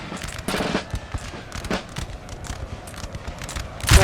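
Musket volleys in the Napoleonic Total War 3 video game: scattered, crackling shots from many muskets pop irregularly across a battlefield, some sharp and near, others overlapping into a ragged rattle.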